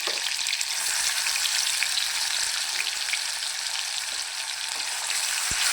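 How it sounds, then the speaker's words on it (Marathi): Cumin, mustard seeds, chopped coriander and tomato fry in a pan over low gas, giving a steady, dense sizzle with light crackles and one brief clink, close and continuous, with no voices. "बारीक चिरलेली कोथिंबीर आणि टोमॅटो हे पण मस्त फ्राय करून घेऊया बारीक गॅसवरती"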